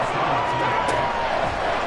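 A stadium crowd at an American football game involving the Ravens roars loudly and continuously, a dense wash of noise with a commentator's voice layered over it.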